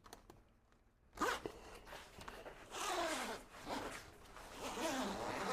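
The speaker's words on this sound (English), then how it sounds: "connect the zip" Zipper on the padding of a two-bar anti-entrapment bumper being pulled closed, several rasping zip strokes in quick succession, close and clear with light handling rustle between.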